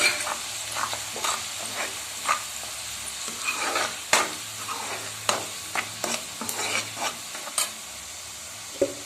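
Spices including salt, chili powder, garam masala, coriander and kasuri methi sizzle and fry on a low flame for palak paneer while a spoon stirs and scrapes the pan in repeated short strokes, close and steady, no voices.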